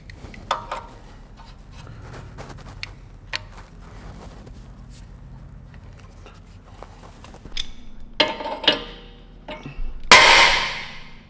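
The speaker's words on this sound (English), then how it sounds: "Now that your ball joint popped" A car suspension ball joint is knocked loose from its arm: light metallic taps and knocks, then a louder burst of banging and a sharp metallic pop near the end.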